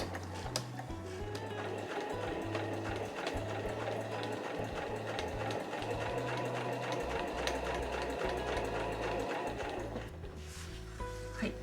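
A domestic sewing machine backstitches the side tab of a reversible drawstring bag, its needle chattering rapidly in bursts that stop and restart as the stitch direction reverses, close and clear with faint background noise.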